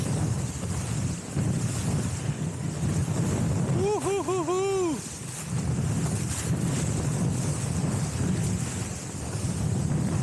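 Strong wind roars steadily across the microphone aboard a sailboat, a loud, constant rush with a brief whooping voice rising over it midway.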